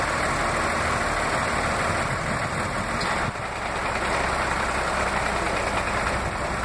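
Toyota MR2 with a 2GR-FE V6 idling with the A/C switched on, a steady, loud and close engine hum that dips briefly partway through before settling, with no talking.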